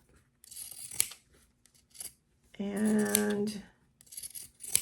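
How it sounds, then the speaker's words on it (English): Pinking shears snipping through excess fabric, a few crisp close cuts with a longer rasping cut in the middle, while a person talks quietly in between. "I am just cutting around with pinking shears to cut the excess fabric off."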